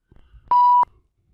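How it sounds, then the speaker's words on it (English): A single censor bleep, a steady pure tone lasting about a third of a second, sounds alone between quiet moments in a podcast-style talk show. "I put in a sensor beep."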